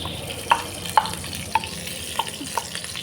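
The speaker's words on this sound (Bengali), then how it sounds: "এই ঘির সঙ্গে আমি কাজু ও কিশমিশ ভেজে নিচ্ছি।" Cashews and raisins fry in ghee in a kadai, a steady sizzle with about five light stirring clinks from a spoon against the pan, close and fairly loud, with no talking.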